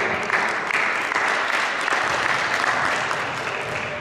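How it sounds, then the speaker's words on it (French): An audience applauds a young player at a mini basketball coaching session, a loud, dense wash of clapping that holds steady for several seconds without a break. "on peut l'applaudir"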